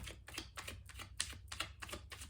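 A deck of cards being shuffled, quick rhythmic bursts of riffling snaps repeating about eight times over a low steady hum, close and fairly quiet.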